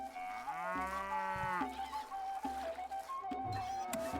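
Cattle mooing in the Stronghold strategy video game, several long drawn-out moos with rising pitch in sequence, loud and clear, with no talk over them.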